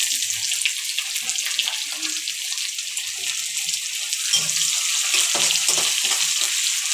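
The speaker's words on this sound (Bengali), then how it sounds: "পেঁয়াজগুলো লাল লাল করে ভেজে নেব" Chopped onions with whole cumin frying in a pan ahead of meat, a bright, close hissing sizzle that swells slightly and carries a few soft low bumps, with no talking.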